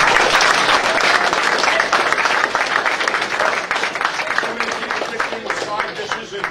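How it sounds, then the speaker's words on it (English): Audience applause for chefs at a grill event: dense, steady clapping from a crowd, loud and sustained throughout, with a few voices mixed under it. "Please give a big round of applause for"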